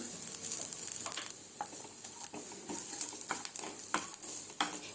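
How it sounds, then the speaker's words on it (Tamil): Small coconut pieces fry in ghee with a soft, continuous sizzle, punctuated by light scrapes and clinks of a spoon against the pan. "இந்த தேங்காவை நல்லா வந்து பொன் வறுவலாக வறுத்துட்டோம்"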